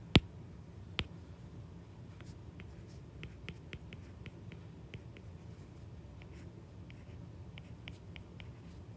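A pen sketches a quick diagram redraw, with a few soft strokes and light clicks spread across a quiet background hum and a sharp tap near the start.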